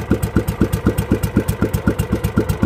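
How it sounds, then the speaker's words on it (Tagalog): An old fishing boat engine chugs steadily at idle, its rapid, even thumping beats carrying loud and close with no voices over it. "Matanda na yung makina kaya kailangan palitan, baka madisgrasya tayo sa laot."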